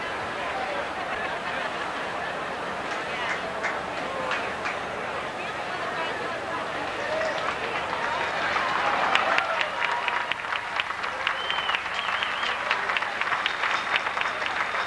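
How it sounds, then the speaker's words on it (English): A grandstand crowd at a 2003 Delaware County Fair harness race applauds a winning pacer entering the winner's circle. The steady clapping and crowd murmur run throughout, growing slightly louder near the end, with an announcer talking over it. "Nice round of applause for MCARDLE as he enters the winner's circle"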